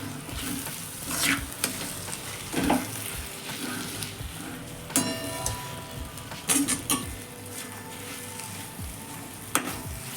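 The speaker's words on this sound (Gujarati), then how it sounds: "હવે સતત હલાવતા રહીશું અને બધું જ મિક્સ કરી લઈશું" A spoon steadily stirs a gum gundar pak mixture of fried, crushed edible gum in a pan, producing continuous scraping and a light sizzle. Occasional louder clinks ring against the pan, and no one speaks.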